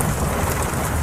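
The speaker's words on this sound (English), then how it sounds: "The storm outside was destroying the house." A violent thunderstorm pounds a house with heavy rain, a dense, steady roar of downpour that stays loud and unbroken throughout, with no voices.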